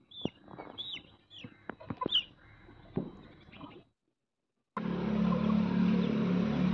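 A Peru cross hen clucks in short, close bursts, then a brief silence before a steady, loud rumbling noise takes over.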